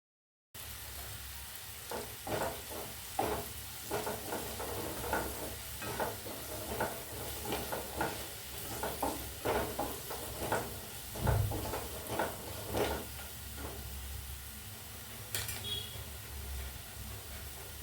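Chili powder frying in a pan for a Kerala-style beetroot stir-fry, a steady soft sizzle with scraping stir strokes repeating every second or so, close up and alone.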